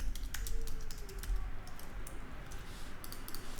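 Rapid clicking keystrokes on a computer keyboard, typed in quick bursts with brief pauses, close and fairly quiet with no voices.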